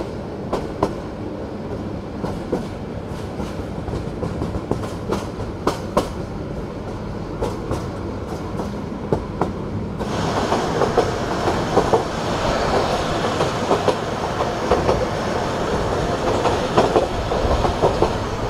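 Sonar Bangla Express passenger train running on rails between Dhaka and Chittagong, a steady rumble with rhythmic clickety-clack wheel beats that grows louder and brighter partway through, alone without voices.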